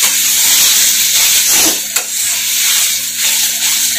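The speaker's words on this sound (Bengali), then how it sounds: "এখন এটাকে আলুর সাথে কপির সাথে ভালো করে মিশিয়ে নিব।" Loud, continuous sizzling and scraping as potato and cauliflower samosa filling with peanuts is stirred in a hot pan, a steady hiss throughout with a brief sharper scrape partway through.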